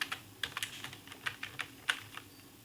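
Steady typing on a computer keyboard while entering column headers into an Excel spreadsheet, a run of quick, close key taps with a few sharper strikes, heard alone with no talking.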